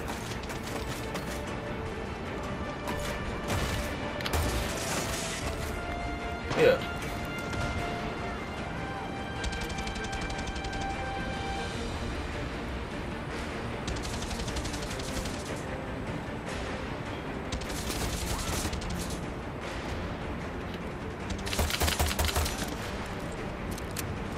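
Gunfire in a guerrilla-themed video game: scattered shots and bursts over a steady busy game soundscape, with one sharp loud report partway through and a heavier cluster near the end; voices talk at times underneath.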